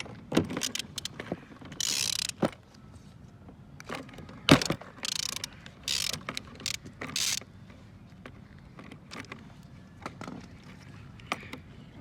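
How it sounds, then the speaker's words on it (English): A ratchet with a 21mm socket works loose the spark plug on a Honda Dio AF34 scooter, a series of faint close clicks and bursts of ratcheting, irregular and spread out, with no talk. "now undo the spark plug with a 21mm socket"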